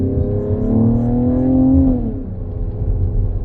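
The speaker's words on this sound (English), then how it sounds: "Listen to that exhaust note." A 2025 Mercedes-AMG GLE 53 engine revs up from inside the cabin while downshifting, a loud, rising exhaust drone that climbs in pitch, peaks, and then drops off into a steady low rumble.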